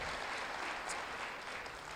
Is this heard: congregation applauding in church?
yes